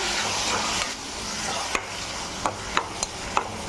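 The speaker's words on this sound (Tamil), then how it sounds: "இதையும் நல்லா வறுத்துக்கலாம்" Peas and potatoes fry and are stirred in a pan, giving a steady broadband sizzle with several sharp scraping clicks of the spoon against the metal, close and moderately loud, no talking.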